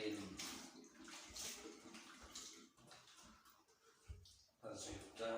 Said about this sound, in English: I'll pour water to make this surface clean